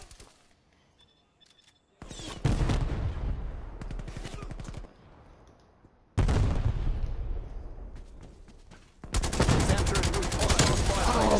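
Gunfire from the video game Call of Duty: Black Ops Cold War, with loud, dense bursts of rapid automatic shots in several long volleys separated by quieter gaps, close and harsh.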